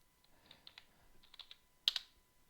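Computer keyboard keys are tapped in short, light bursts, a handful of close, quiet clicks with one sharper double press near the end, no voice present.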